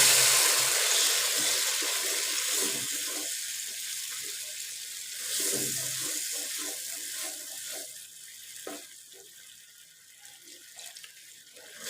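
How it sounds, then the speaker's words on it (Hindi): Water poured from a glass into a pan of red lobia beans being fried, a steady close splashing and hiss that fades to a quieter simmer with a few clinks near the end. "तो इसमें पानी शामिल करेंगे।"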